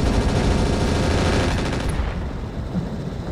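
Rapid volleys of LRM missiles fire in the mech combat game Battletech, a dense, loud roar of launches and blasts that thins out toward the end, with no talk over it.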